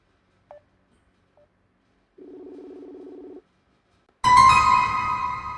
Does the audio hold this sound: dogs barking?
no